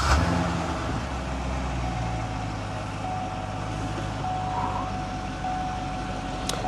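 A car engine runs steadily after cranking, with a power steering system being flushed with synthetic lubricant: a continuous low idle rumble and hum, moderately close, with no talk.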